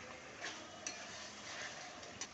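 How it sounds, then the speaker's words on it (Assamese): Onions frying in ghee in a pan, heard as a soft, steady sizzle with a few light stirring scrapes and clicks, quiet and close, with no voices. "পিঁয়াজখিনি ফ্ৰাই কৰিব লাগিব আৰু এনেদৰে ফ্ৰাই কৰিছে"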